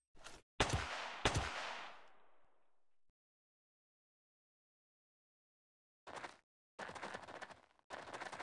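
Gunfire from the video game Jagged Alliance 2: two loud shots ring out in quick succession with a long fading echo, then silence before several more sharp rapid bursts.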